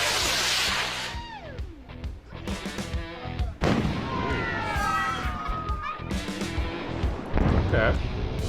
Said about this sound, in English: Check out these 1 in a million moments when fireworks are struck by lightning.